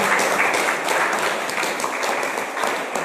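Sustained audience applause following the close of a quiz final, a dense wash of many hands clapping steadily and fairly close for the whole stretch, with no talk over it.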